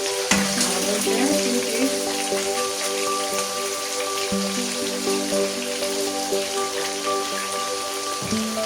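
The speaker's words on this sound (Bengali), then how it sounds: "এক এক করে মাছগুলো ভাজলাম" Katla fish pieces sizzle and crackle steadily in hot oil, a dense continuous frying hiss with faint clinks, close and alone without talk.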